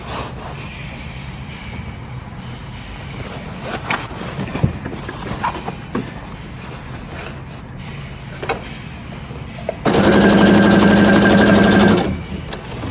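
A sewing machine stitches camouflage fabric for a groundsheet in a short, loud, steady burst near the end, preceded by quiet handling of cloth and small clicks.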